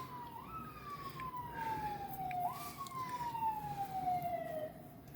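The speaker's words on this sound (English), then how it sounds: "Pardon the sirens, I live in the city" Emergency vehicle sirens on a city street wail in two long descending sweeps, one after the other, moderately loud over steady traffic rumble, with no talking.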